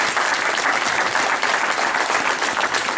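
Dense, sustained applause from an election-night audience for Bruno Beschizza, loud and even throughout with no break.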